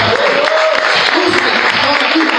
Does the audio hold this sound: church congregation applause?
yes